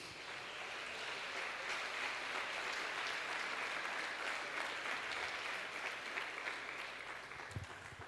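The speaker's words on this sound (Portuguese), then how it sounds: "aplaudam a Jesus." Sustained applause from a large church congregation, an even roar of clapping heard from a distance with no break.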